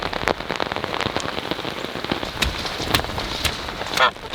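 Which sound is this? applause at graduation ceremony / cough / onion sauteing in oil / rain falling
rain falling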